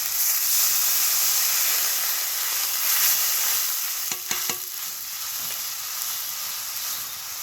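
Water is poured into sizzling mustard masala for a fish curry, a steady loud steaming hiss broken midway by a few metallic clinks of a utensil against the pan, then the hissing continues at a slightly lower level.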